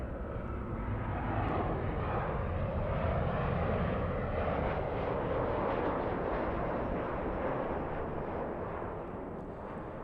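A Southwest airliner in Arizona One livery, arriving at LAX from San Francisco, roars loudly and steadily overhead with broad, rumbling jet engine noise that holds for the whole stretch and eases slightly at the end.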